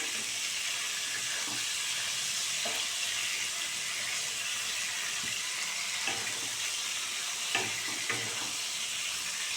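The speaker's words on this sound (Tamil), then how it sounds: "இறால் சீக்கிரமே வெந்துடும், அதிக நேரம் எடுக்காது." Prawns fry in hot oil while biryani is being made, a loud, continuous close sizzle with occasional soft stirring scrapes and no speech.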